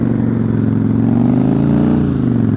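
A motorcycle engine idles along at low revs during riding skills practice, a loud, close, steady throb with a rhythmic pulsing rumble and a slight rise in pitch partway through, with no one talking.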